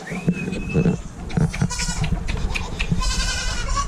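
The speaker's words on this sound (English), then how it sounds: "Okay, goats, come on." Several goats bleat close by on a homestead in spring, overlapping calls of varying pitch, with shuffling and farmyard noise in between.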